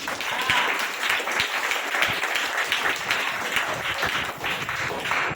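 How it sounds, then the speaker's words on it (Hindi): A church congregation at a Hindi Christian service claps hands hard and fast, dense sustained applause with sharp individual claps standing out, filling the room from start to finish. "ताली कंजूस की तरह नहीं बजाना है, अमीर की तरह बजाना है।"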